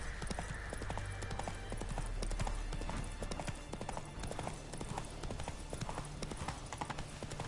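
Horse hooves clip-clop at a steady trotting rhythm across ground in The Witcher 3, set against a continuous ambient game background at moderate level.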